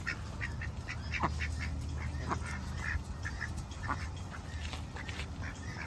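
Ducks quack repeatedly while being hand-fed at a Hua Hin cafe with animals, a steady stream of short, fairly faint calls over a constant background hum, with no talk over them.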